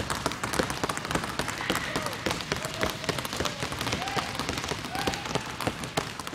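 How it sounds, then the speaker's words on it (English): A basketball dribbled on an indoor court floor during a ball-handling clinic, with a quick, steady run of sharp bounces over a noisy gym background with voices. "now stand here like this and we want to bounce the ball"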